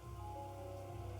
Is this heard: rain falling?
yes